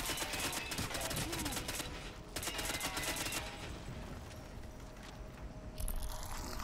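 Gunfire in the video game Crysis: a dense, steady rattle of automatic shooting that runs almost continuously at moderate level, with a brief break and a sharper burst near the end.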